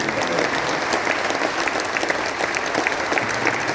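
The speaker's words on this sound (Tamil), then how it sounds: "நாம் கைத்தட்டி மகிழ்ந்து நன்றியை தெரிவித்துள்ளோம்." Sustained audience applause at a Thirukkural international conference, dense steady clapping from a large crowd filling the whole stretch without pause.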